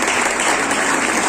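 Church congregation applauding together at a lively worship service, a steady dense wash of clapping that holds at full strength throughout, with no voices rising above it.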